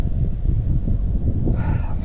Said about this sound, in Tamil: சில்லுன்னு அடிக்கிற இந்த காற்று தான்